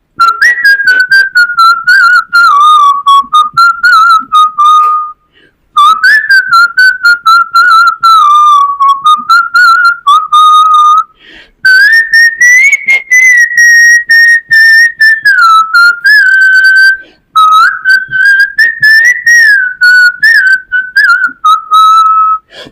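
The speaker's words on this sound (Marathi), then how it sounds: "मी शिट्टीतून गाणं म्हणून दाखवणार" A person whistles a melodic song solo, clear and close, in long sustained phrases broken by brief pauses for breath, with no talk over it.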